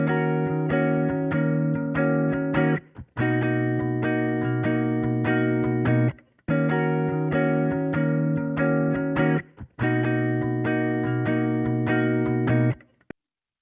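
A sustained, repeating guitar loop from a sample pack rings out in four bars, separated by short gaps, with a soft wash of ambient reverb around each strum. No one talks over it.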